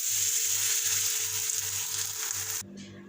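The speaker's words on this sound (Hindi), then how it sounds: "इसी तरह हम अपने दूसरे पैनकेक भी" A potato pancake sizzles in a frying pan, a steady, fairly soft hiss over a low pulsing hum that cuts off abruptly near the end, leaving a quieter tone.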